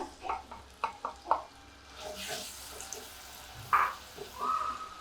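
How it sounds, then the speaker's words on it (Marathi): Stone-ground dal is tipped into a pan of chilli powder and turmeric with the gas switched off, giving a few soft wet plops and scraping stirs, then a brief splash and a faint hiss, quiet and close. "आणि जी आपण डाळ वाटली आहे ती डाळ टाकूया."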